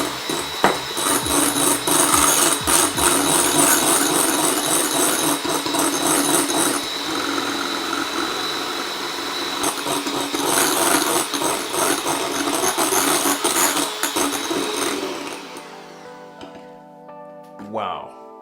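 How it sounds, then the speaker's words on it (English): Electric whisk beating icing sugar into a vegan ice cream mixture, a loud steady whirring that runs for about fifteen seconds with shifting pitch, then cuts off into quiet at the end. "I'm going to add and whisk in at the same time"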